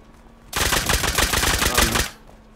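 Dense rapid gunfire from the survival game Rust, a loud continuous burst of closely spaced shots lasting about a second and a half, standing alone and cutting off sharply.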